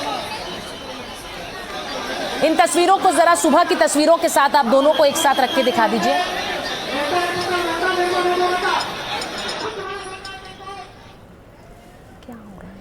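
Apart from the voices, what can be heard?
crowd gathered to pay tribute to Ajit Pawar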